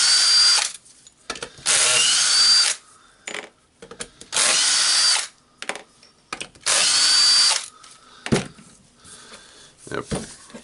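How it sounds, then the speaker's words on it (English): A power screwdriver whirs in four sustained bursts, removing the housing screws from a Hilti TE 706-AVR demolition hammer, with short clicks and handling noises and some talk in the gaps between bursts. "we need to unscrew the screws here"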